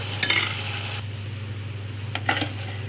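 A spoon scraping and stirring fried chicken semi gravy in a pan, a few brief clinks and scrapes over a low steady background hum, close and fairly quiet.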